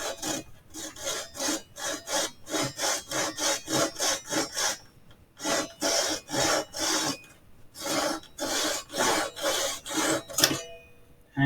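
A hand saw cuts a small clamped piece of wood for a model house, with quick, regular back-and-forth rasping strokes in two runs separated by a short pause, close and crisp with no talking.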